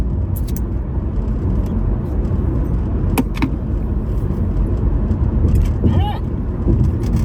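A car being driven, heard from inside as a continuous loud rumble of road and engine noise with occasional brief clicks and rattles.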